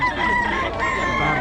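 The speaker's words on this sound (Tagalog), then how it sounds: "Ang daming manok na." Chickens at a crowded poultry market in Bocaue, with a rooster crowing loudly and close while other birds cluck underneath, a dense farmyard clamor.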